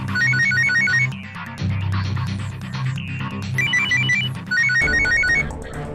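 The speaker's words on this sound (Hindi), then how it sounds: "फोन फ्रीजर में बज रहे हैं।" Mobile phones ring from inside a kitchen freezer, with repeated electronic ringtone melodies in bursts over a dense layered background of overlapping tones.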